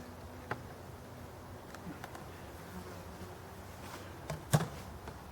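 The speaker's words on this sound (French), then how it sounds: "ce sont les abeilles d'hiver" Winter honeybees hum softly around a forest hive in early November, a quiet continuous buzz with a few brief closer passes and small ticks near the end.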